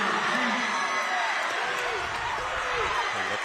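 A high school boys basketball crowd at a Martinsburg at Musselman game roars steadily after a made layup. The cheering is dense and sustained, a commentator talks over it, and faint sneaker squeaks cut through.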